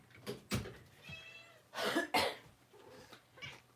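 A cat meows several times in short, uneven calls, close by but fairly quiet, with some rough, cough-like bursts mixed in and no speech.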